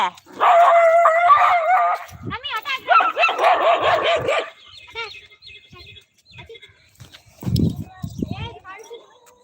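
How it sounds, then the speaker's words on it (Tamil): Dogs bark and yelp in a rapid burst while one chases another to bite it. The barking is close and loud at first, then fades into scattered yelps with a brief howl-like cry near the end, and no talk is heard. "நாய் வேறு கடிக்கிறதுக்கு நாயை துரத்துது பாவம்"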